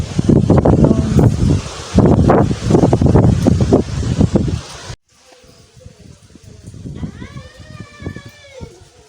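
Strong gusts of wind buffet the microphone in loud, rough bursts, then the roar cuts out to quieter outdoor ambience with faint voices.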